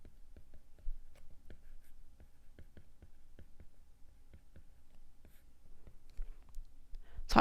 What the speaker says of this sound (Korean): 다시 예쁘게 써볼게요